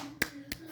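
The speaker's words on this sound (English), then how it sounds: "Clap." Two sharp hand claps about a third of a second apart, close and fairly quiet, from a child playing basketball at home, with a faint steady hum underneath.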